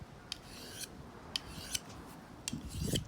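A knife is drawn across a finer sharpening stone in a few separate, close, dry rasping strokes with brief gaps between them, ending in a slightly louder scrape.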